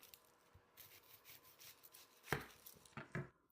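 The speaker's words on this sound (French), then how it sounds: "Nous allons couper le haut de l'oignon pour le dévoiler." A knife slices the top off an onion on a cutting board, starting with quiet scraping and rustling, then two or three sharp, close cuts and knocks toward the end.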